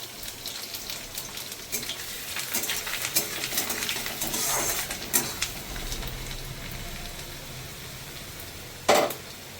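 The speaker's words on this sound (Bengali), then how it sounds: "এবার একটু রসুন দিয়ে দেবো" Garlic and dried red chillies sizzle in hot oil while frying jute leaves, a steady soft crackle with occasional louder spits and a sharp clatter near the end.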